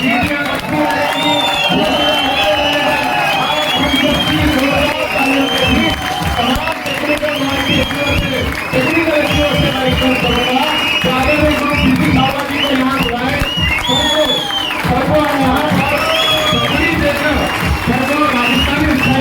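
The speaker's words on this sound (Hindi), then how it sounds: "तालियां बजती रहेंगी, सीटियां बजती रहेंगी" A seminar audience at a celebration program claps and whistles continuously, with dense crowd noise and speech over a sustained roar.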